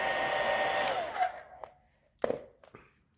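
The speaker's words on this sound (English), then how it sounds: "hair dryer on low speed." A hair dryer powered by an Anker PowerHouse II 400 portable power station hums steadily at low speed, then switches off and winds down, followed by a few clicks and handling knocks.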